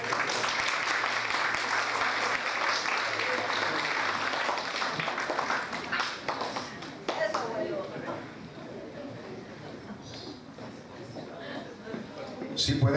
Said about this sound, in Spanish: Hay mucho silencio, ¿no hay un aplauso?